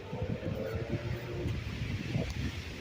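Strong storm wind blowing hard, gusty low rumbling buffets across the microphone with uneven surges, steady and fairly loud, no voices.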